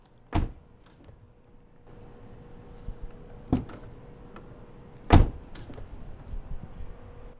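A Toyota GR86 door fitted with a TRD door stabilizer opens and shuts close by, giving three distinct solid thumps, with the last the loudest and a few softer latch clicks in between.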